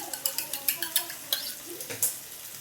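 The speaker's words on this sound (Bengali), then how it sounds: "দিয়ে ভালো করে ওর সঙ্গে নাড়তে থাকবো।" A utensil scrapes and stirs egg chilli frying in a pan with tomato and soy sauce, with repeated short clinks and a soft sizzle underneath, close and steady.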